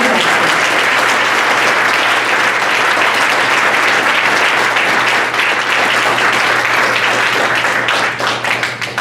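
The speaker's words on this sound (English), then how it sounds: "Everyone, a round of applause for Dr. Joy." A large lunch audience at a university event applauds a speaker, Dr. Joy, with a loud, sustained wash of clapping that tapers slightly at the end, over a steady low hum.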